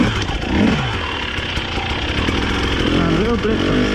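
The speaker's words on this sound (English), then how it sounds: "That was my back wheel spinning, and you can hear it go woo" A Husqvarna TE300i enduro motorcycle revs hard, close and loud, its back wheel spinning as the engine note rises and falls in quick surges.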